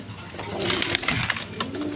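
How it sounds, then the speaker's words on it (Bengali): A pair of Rasgolla pigeons, a blue-grey hen and a cock, coo in soft repeated pulses close by, with a steady background murmur throughout. "এখানে আরেক পেয়ার রাসগোল্লা কবুতর আছে দেখেন"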